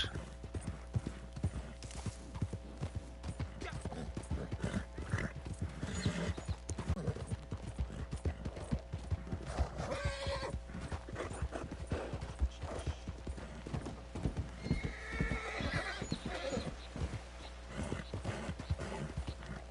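Hooves clip-clop steadily on a ridden horse in a PS4 western game, a continuous even rhythm heard over a low constant background hum throughout.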